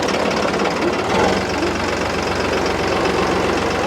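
A 2511 tractor engine labors hard while hauling a loaded trolley, a loud, dense, rapid knocking diesel chug that runs steadily without a break, close up.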